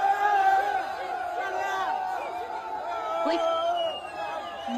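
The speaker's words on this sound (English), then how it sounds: "Look at this crowd." A large crowd of men gathers at gates that have just been opened, a dense, continuous hubbub of overlapping voices, shouts and whoops at a steady, fairly loud level throughout.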